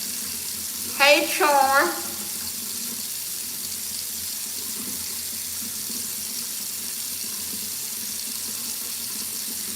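Tap water runs in a steady, faint hiss through the whole stretch of a home night routine, while a voice speaks briefly near the start.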